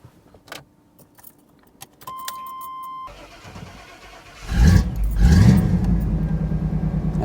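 Keys jangle and a dash chime sounds, then a car engine cranks and catches. It settles into a steady, fairly loud idle rumble close by, with no speech.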